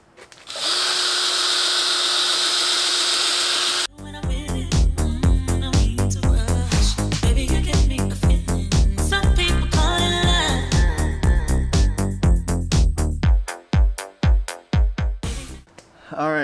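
A power tool whirs as a 3000 grit pad sands yellowed Lexus GX470 headlights, starting with a steady hum and shifting to a varying, pulsing buzz before stopping in a few short bursts near the end.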